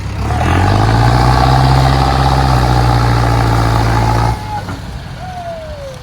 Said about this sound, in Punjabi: ਇਹ ਪਹਿਲਾ ਗੇਅਰ ਲਵਾਤਾ ਸੀ ਕਾਲੇ ਨੇ